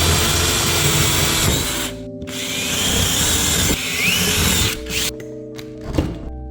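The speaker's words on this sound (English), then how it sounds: "I had to pick out a bit the same size as my blade to make some pilot holes." A power drill bores pilot holes in plywood, whining loudly up close in several bursts with short gaps as the bit is stopped and restarted.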